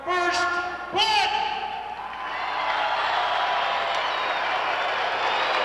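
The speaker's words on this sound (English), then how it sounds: "not drawing the applause he'd like to" Crowd at a 1986 monster truck show gives modest applause and cheering, a broad wash of clapping rising after a brief announcer's voice at the start and continuing steadily at moderate level.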